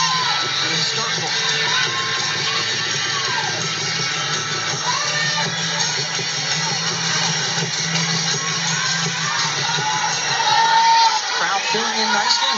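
Crowd at a Mississippi State softball game in Starkville, a continuous murmur with occasional cheers and whoops across the stands, heard under voices talking.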